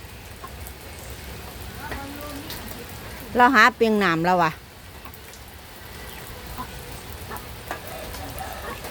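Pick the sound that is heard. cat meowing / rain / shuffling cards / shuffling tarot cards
rain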